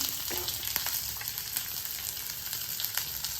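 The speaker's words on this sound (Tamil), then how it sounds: "ஆயில் ஹீட் ஆன பிறகு நான் வந்து ஃபர்ஸ்ட் கேபேஜை ஆட் பண்ணிக்கிறேன்." Cabbage frying in hot oil for street-style momos, a dense steady sizzle close up with occasional sharper crackles and light stirring, no talking.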